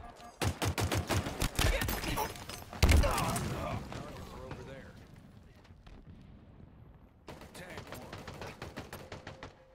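Halo Infinite combat with dense rapid gunfire and booming impacts, loud at first and then fading into a quieter rumble before a fresh burst of shots, with game voice lines over it.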